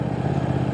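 A Triumph motorcycle exhaust on overrun gives a short, dense, steady rumble with a rough, crackly texture, loud and close, with no voices.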